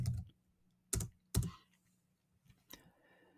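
A few sparse key presses on a computer keyboard, heard as four or five separate clicks spaced unevenly over a few seconds, close and fairly quiet with near-silence between them.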